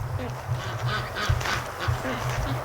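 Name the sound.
ducks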